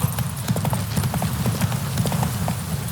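Roach, a horse in The Witcher 3, gallops with rapid, loud, close clip-clopping hooves in a steady driving rhythm across the whole stretch.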